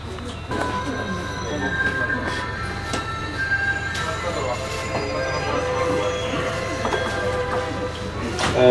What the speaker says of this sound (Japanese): センセキ東北ラインの快速列車、特別快速列車の石巻行き発車でございます。